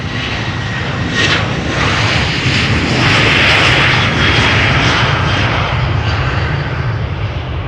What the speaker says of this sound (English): Next up, the Boeing 737 from KLM, one of the many.